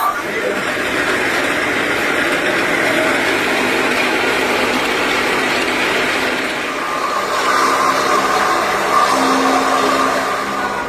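A chaff cutter machine's electric motor runs continuously with a steady, loud whirring drone that shifts slightly in pitch partway through.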